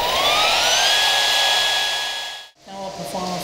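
AGP HP1400 high-frequency metal beveling machine spinning up to full operating speed: a loud, steady whine rising in pitch and holding, then cutting off sharply before a brief restart of rough grinding noise.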